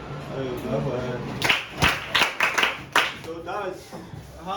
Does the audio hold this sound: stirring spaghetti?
no